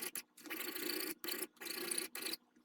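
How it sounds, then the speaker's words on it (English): A metal file rasps across a Krag bayonet in four separate strokes with short pauses between them, close and fairly quiet. "I'll first file the bayonet itself, since I'll need a clean surface to weld"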